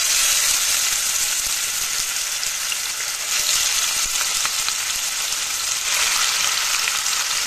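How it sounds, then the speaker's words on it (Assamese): Marinated chicken pieces sizzle loudly and steadily in hot oil in a wok, a dense continuous frying crackle with no voices. "কেৰাহীত মই তেল গৰম হ'বলৈ দি দিছোঁ এতিয়া মাংসখিনি মই ইয়াতে বহুৱাই দিম"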